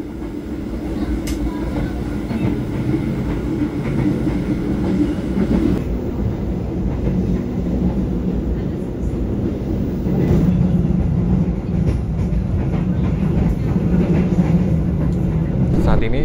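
A Serayu passenger train from Purwokerto bound for Pasar Senen being shunted on track 1 at a station, a steady close rumble of rolling wagons and engine drone throughout with faint clatter, no talk.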